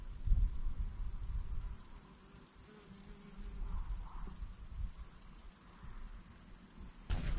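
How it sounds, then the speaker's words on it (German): Crickets chirp outdoors in the Spessart nature park in Germany, a steady high continuous trill filling the background, moderately quiet, with low rumbles and no talk. "Hört ihr auch dieses Grillenzirpen?"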